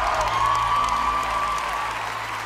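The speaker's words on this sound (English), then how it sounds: "A big round of applause for Amelie." A theater audience at an America's Got Talent audition applauds steadily, with a dense wash of clapping over a sustained tonal hum and faint scattered cheers.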